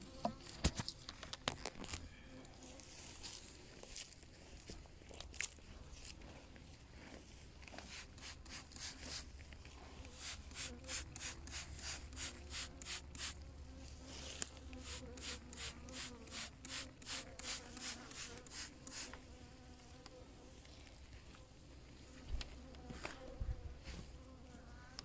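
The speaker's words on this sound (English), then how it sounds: "there are a few bees buzzing around trying to warm me off" Honeybees buzz continuously around a hive at dusk, a dense droning hum with individual insects flying close by, plus occasional soft taps and rubbing sounds.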